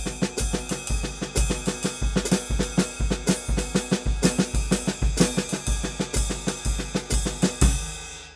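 A drum kit plays a steady medium swing groove, ride cymbal pulsing evenly with kick and snare accents woven through, ending on a ringing cymbal wash.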